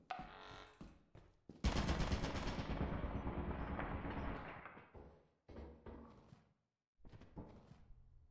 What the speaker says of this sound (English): Oh god, there's a turret right there.